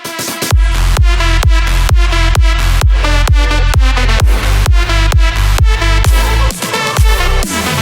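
Pounding electronic dance music drop with a heavy kick on every beat and thick bass, loud and continuous, with a brief breakdown near the end.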